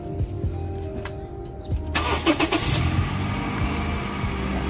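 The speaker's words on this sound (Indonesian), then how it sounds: "Jadi sekarang coba kita nyalakan mesinnya." A 2014 Honda Freed 1.5S with CVT transmission starts up: a brief starter crank at about two seconds, then the engine catches and settles into a steady, fairly close idle that continues to the end.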